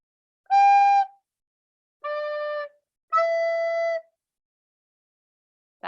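Three separate wind-instrument notes, G then low D then low E, each held about half a second with clean pauses between, followed by the start of a fourth note at the end.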